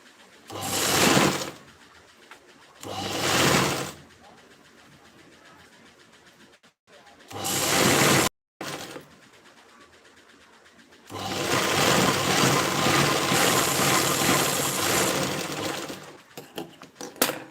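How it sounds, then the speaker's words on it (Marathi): A sewing machine stitches a princess-cut blouse seam in short, loud bursts of rapid whirring, separated by quiet pauses and then one long continuous run near the end. "परत एक आपल्याला तिथूनच इकडच्या साईडला टीप मारून घ्यायची"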